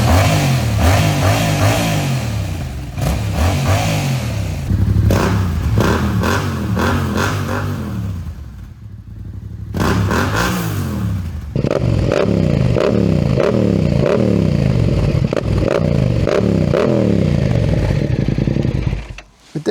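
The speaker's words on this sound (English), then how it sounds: "It definitely sounds more aggressive when it comes to the Akrapovic exhaust compared to the stock exhaust provided by Yamaha." A 2023 Yamaha MT-07 motorcycle revs repeatedly, first through its stock exhaust and then through an Akrapovic exhaust, with loud, close, rising and falling engine bursts. A short quiet gap falls between the two sets.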